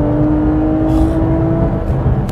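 A Porsche 911 GT3 RS with its Mezger flat-six engine roars loud and close, holding a steady high rev through the whole stretch with no break.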